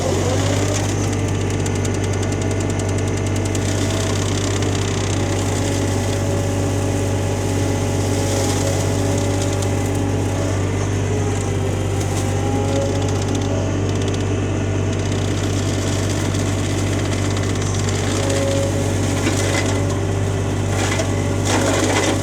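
A flail mulcher attachment shreds thick brush and wood with a loud, continuous grinding and crushing roar over a steady engine drone, steady throughout with splintering crackles.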